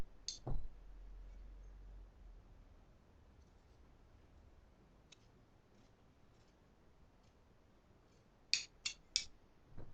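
A tailor's scissors cut dress fabric during draping, giving a faint early snip and then three quick, crisp snips close together near the end, over quiet room hiss.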